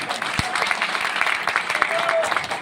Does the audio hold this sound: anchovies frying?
no